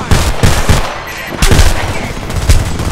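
Rapid bursts of gunfire in the video game Homefront, loud and close, with repeated sharp shots in clusters and a dense noisy bed between them.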